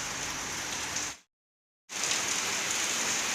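Heavy rain pouring down in a steady, dense, loud hiss, briefly dropping to silence in the middle before the downpour resumes just as strong.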